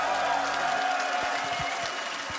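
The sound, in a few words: esports arena crowd cheering and applauding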